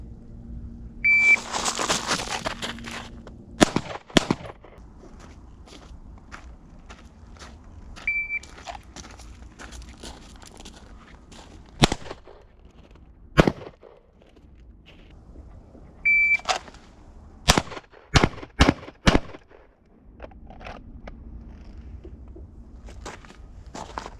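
Handgun shots at a police qualification on a firing range, sharp loud cracks fired in quick groups, a cluster early, single shots near the middle and a rapid burst of several near the end, with quieter handling noise between.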